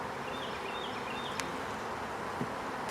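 Honeybees buzzing in an open hive during a spring inspection after winter, a steady, soft, continuous drone with a faint sharp click partway through.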